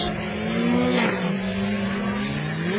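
Dodge Viper GT race car in FIA GT racing at Silverstone, engine roaring loud and close as it accelerates away after a spin, pitch sweeping up and settling into a sustained high-revving drone.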